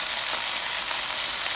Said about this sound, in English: if the meat had been refrigerated, it would have stopped that sizzling